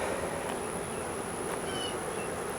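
Honey bees buzz steadily around a hive frame being pulled from a hive with drawn comb, a dense, continuous drone that stays close and fairly quiet throughout, with no talking.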